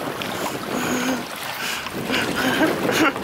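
A canoe races on the Zambezi river, its paddling heard as soft, uneven water splashes under steady wind noise on the microphone.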